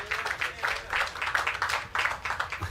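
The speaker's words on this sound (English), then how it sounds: "Another round of applause for Mr. Kirsch Ramsey." Audience applause at an official road commissioning for a local road connector and roundabout, a steady patter of many hands clapping at moderate distance for a few seconds with no talk over it.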